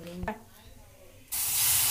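Ripe bananas dropped into semolina roasting in a pan for sheera set off a sudden loud sizzling hiss that starts partway through after a brief knock and quiet stretch, continuing strongly to the end.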